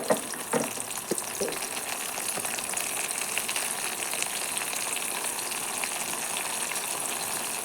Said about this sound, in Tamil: நல்லா மசிஞ்சு வர வரைக்கும் வதக்கிக்கலாம்